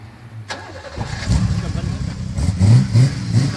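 A BMW 325 engine cranks and catches, then revs in several rising pulls before settling, loud and close, while people talk nearby.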